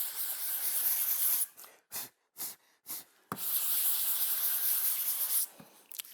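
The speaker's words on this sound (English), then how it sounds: "You can cover a lot of the sprocket if you do it on a long board sanding block like I'm showing you right here." A sprocket is sanded on a long board sanding block in fine-grit passes, making a close, loud, steady rasping hiss broken by several short separate strokes in the middle before the long scraping resumes.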